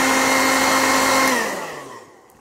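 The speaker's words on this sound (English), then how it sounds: "get the hairdryer on it, and hopefully you should see that disappear." Hair dryer blowing over a freshly soldered circuit board to evaporate cleaning fluid, a steady close whoosh that then winds down and fades as it is switched off.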